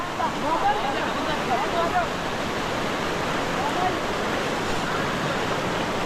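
A steady, full-bodied rush of monsoon floodwater pours through a Konkan village lane, unbroken and loud, while people speak faintly under the torrent.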